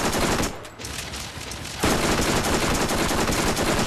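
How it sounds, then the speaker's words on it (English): Rapid SMG fire in Borderlands rattles off in dense, loud bursts, pausing briefly after the first half-second before resuming in a sustained stream of rapid shots. "I'm just trying to wail on him with my SMG"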